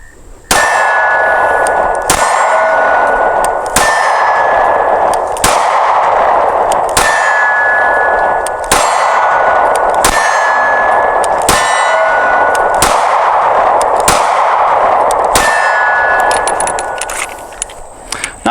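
A SCCY CPX-2 9mm handgun fires a long string of shots at an outdoor range, about a dozen loud, sharp reports spaced roughly a second or more apart, each with a ringing metallic clang, with no talking.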